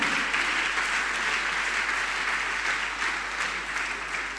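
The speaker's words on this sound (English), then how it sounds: "I want you to clap for Mike" Steady applause from an audience at a program closing ceremony, dense and continuous clapping holding at an even level throughout.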